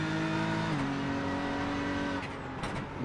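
Race engine of a BMW M4 GT3 in a Le Mans racing game holds a steady loud drone, shifting pitch once, then a brief rumbling thump and clatter as the car runs over a curb on low tyre pressures.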